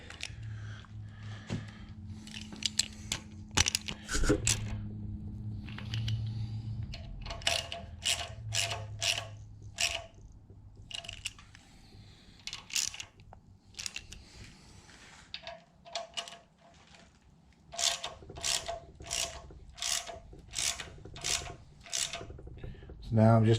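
A hand ratchet clicks in repeated quick bursts while cylinder head bolts on a 2012 Hemi engine from a Ram 1500 are tightened, close by, with pauses between strokes and a faint hum underneath.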